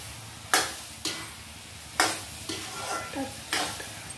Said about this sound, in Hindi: तो चलिए अब जिमीकंद की कर लेते हैं मसाले के साथ में मिलाई